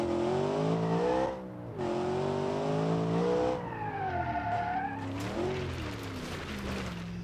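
A straight-piped car engine with no catalytic converter or mufflers revs in BeamNG.drive, rising and falling through gear changes with a loud raspy harmonic drone that climbs, dips and climbs again.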